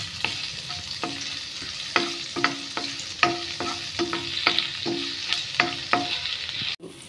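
Dried chillies roast in hot oil for a Goan spiced chicken sausage, giving a steady close sizzle broken by regular metallic spatula clinks and scrapes, cut off abruptly at the end.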